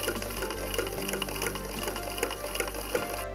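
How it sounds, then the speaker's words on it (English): Zigzag sewing machine stitching a puppet wig with tassels, a fast steady mechanical whirring with rhythmic clicking pulses, close and fairly quiet, running alone without any voices. "Run a few zigzags down there, just to beef up that warp at the top of it."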